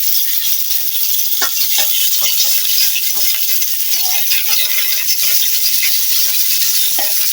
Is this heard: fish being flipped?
yes